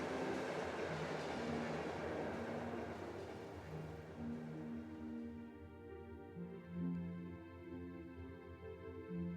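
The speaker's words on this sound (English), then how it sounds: "a train" A train in the video game Trails of Cold Steel rumbles loud and near at first, then eases off as sustained tonal hums and whines take over, fading down without any talk.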